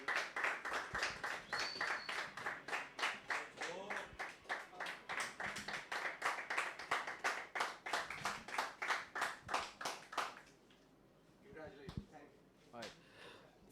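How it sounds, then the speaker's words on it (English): Prize winners at the ILG Cup Season 3 esports grand finale get a round of applause: steady, rhythmic clapping from a crowd for about ten seconds, then it fades into quieter room noise and a few scattered sounds. "Guys, a big round of applause"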